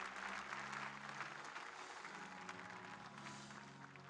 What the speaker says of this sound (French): Élevons les mains et applaudissons pour Jésus.